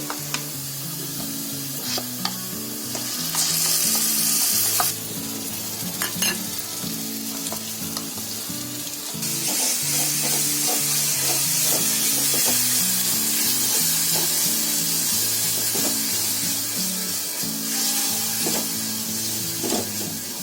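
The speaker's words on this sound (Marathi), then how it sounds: "आपलं दह्याचं मिश्रण टाकलं ना की असं सतत चांगलं आहे ना ढवळून घ्यायचं जरा" Curd mixed with coriander powder and chili powder sizzles steadily in a pan while being stirred for a chutney, a loud continuous crackle with scraping strokes that grows louder midway, with no talking.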